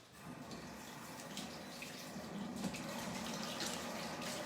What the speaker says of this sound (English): We're going to rinse our fingers off real quick.